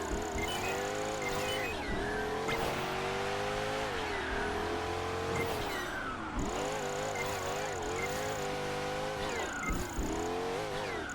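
The twin-turbo race car engine in Project Gotham Racing 4 on Xbox 360 revs hard and continuously, climbing and dropping through gear shifts with brief whistling tones and tire noise, loud and up close.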